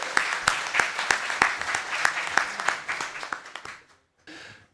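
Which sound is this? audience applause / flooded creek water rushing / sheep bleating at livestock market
audience applause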